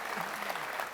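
A studio audience at an Indonesian television talk show claps for a guest in a brief, dense burst of applause.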